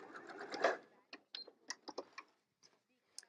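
Sewing machine stitching quilt binding in short bursts, a soft whirring run followed by a series of brief clicks and taps as the needle is lifted and the fabric pivoted, fairly quiet and close.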